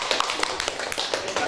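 Applause for a student group at the end of a classroom presentation: a scattered burst of hand claps from a small audience, steady and moderately loud, with no talk over it.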